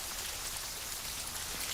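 Steady rain patters down on a stormy night, heard as an even, close wash with no break and no voices.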